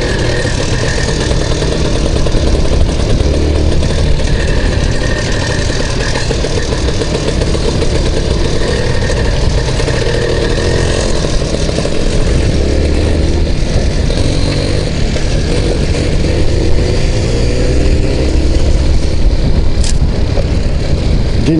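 IZh and Honda motorcycles riding together down a road, a steady loud engine drone and wind rush running without a break.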